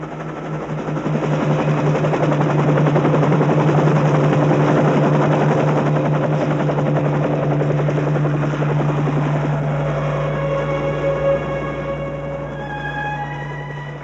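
A helicopter flies over snowy Yellowstone during a winter elk roundup, its rotor and engine droning loud and steady throughout, close overhead and unaccompanied by voices.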